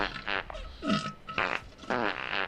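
A comic fart sound effect mixes with burps: a quick run of buzzy, wet blurts and croaks packed into a couple of seconds, loud and close, with no speech.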